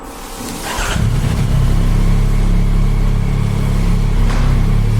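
A Yamaha MT-09 motorcycle with an automatic-style shifting setup pulls away in first gear inside a garage, its engine rising from idle into a loud, steady, throaty drone that holds close and continuous.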